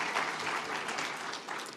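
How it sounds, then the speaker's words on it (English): An audience at the PLC2024 conference applauds Pennsylvania State Senate Majority Leader Joe Pittman. Dense, continuous clapping from many hands fills the whole short stretch at moderate loudness, with no voices over it. "give him a round of applause"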